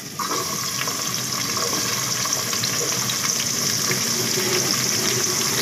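Chopped onion hitting hot oil in a pan for baingan bharta: a loud, continuous sizzle with bubbling and crackle, steady throughout after a sudden start.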